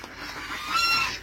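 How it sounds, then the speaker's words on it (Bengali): A goose at a hill farmstay near Kalimpong, North Bengal, gives one loud, close, nasal honk that rises briefly before fading. "এখানে একটা রাজহাঁস আছে, বাবা কি জোরে জোরে ডাকছে।"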